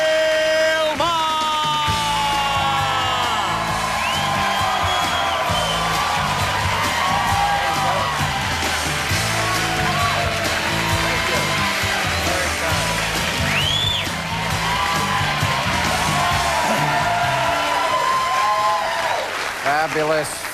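A 1998 Politically Incorrect studio crowd welcomes host Bill Maher with loud, sustained applause, cheering, yells and whoops over music, the roar holding strong throughout.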